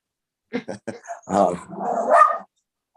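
A dog barks at another dog outside a window indoors, a few sharp close barks followed by a longer growling, whining stretch, loud and alone.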